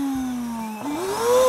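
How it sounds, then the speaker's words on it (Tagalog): A Lotus 110-watt vacuum cleaner runs close up, its motor whine dropping slightly and then rising in pitch as it sucks air out of a silage bag of Napier grass. "ipakuha mo yung vacuum natin sa sasakyan"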